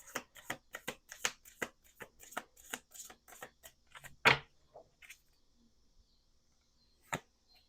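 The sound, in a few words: tarot cards being shuffled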